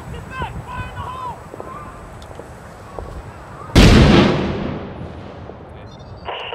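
A C4 charge goes off in the video game Six Days in Fallujah, one loud close blast that fades into a long rumble after quiet battlefield ambience with faint distant shots and brief chatter.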